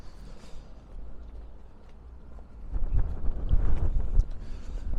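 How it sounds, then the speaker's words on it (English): Outdoor wind on a cold city street in Stockholm, Sweden, rumbles low against the microphone, building stronger and gustier halfway through. "It is windy and cold today."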